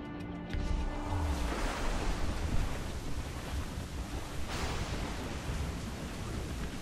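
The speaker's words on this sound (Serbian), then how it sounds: "Kako dobro izgleda ova kiša." Steady rain and rolling thunder in the video game Assassin's Creed Rogue, a dense continuous wash of downpour with a low rumble building beneath it, heard alone without talk.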